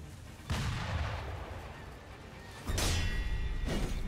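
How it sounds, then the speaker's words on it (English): Cannon fire in the video game Sekiro: two heavy booming blasts a couple of seconds apart, each with a rumbling, crackling tail that fades slowly, loud and distant-sounding. "Who is shooting cannons?"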